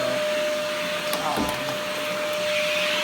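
A Green Fantom Wildcat vacuum cleaner running with hose suction, a steady loud motor drone with a sustained whine and brief suction gurgles as the hose is moved.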